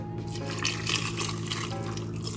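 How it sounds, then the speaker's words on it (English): Beef broth, about a cup, poured into a pot for birria sauce: a steady liquid splash and trickle that runs continuously through the short stretch at moderate level, with no voices. "I'm gonna add some of the broth, probably like a cup or so."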